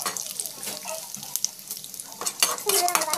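Mustard seeds and cumin fry in hot oil, uneven crackling and sizzling bursts close by, with spoon scrapes and a louder spell of popping toward the end.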